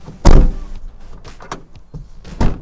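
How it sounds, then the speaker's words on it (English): The side door of a 2015-onward Mercedes Vito van is pulled against an engaged deadlock: a loud metallic thunk as the door jolts open a little and catches, lighter rattles, then a second clunk. "the door just opens a little bit and that's it"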